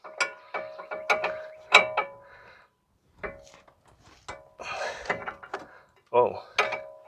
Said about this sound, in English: So you get one move in the wrench, and then you have to turn the wrench over